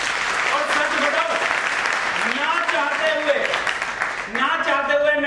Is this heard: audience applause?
yes